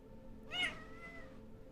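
A house cat gives a single clear meow, close by, rising and then trailing off, over a low background hum.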